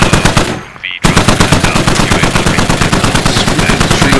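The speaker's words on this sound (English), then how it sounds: "Another Saw gunner making good use of suppression / accurate spray." Sustained rapid bursts from a SAW machine gun in a combat video game, loud and close, a dense rhythmic stream of shots with a brief pause before firing resumes nonstop.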